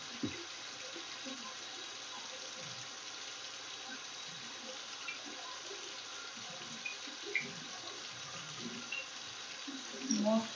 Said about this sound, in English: and then I will wash my hands again